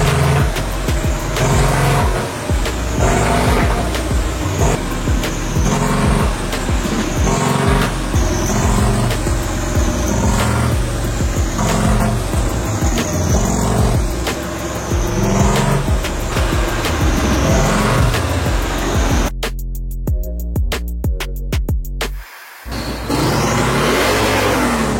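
A turbocharged Harley-Davidson Road Glide motorcycle on a dyno at a tuning shop, its engine loud and close, revving repeatedly in rising and falling sweeps, then cutting off into a brief stutter before roaring again.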